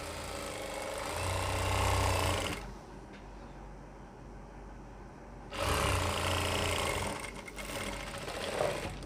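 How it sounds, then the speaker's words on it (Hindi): Sewing machine runs in two bursts of steady mechanical whirring, stitching a half-inch seam along a pant leg, with a quieter pause between runs. "बस इस पर हम एक आधे इंच की मार्जिन से सिलाई लगा देंगे"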